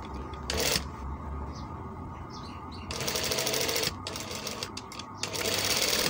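An electric sewing machine stitches a kameez in several bursts of rapid, buzzing needle action, separated by brief pauses and lighter handling sounds, close and fairly loud.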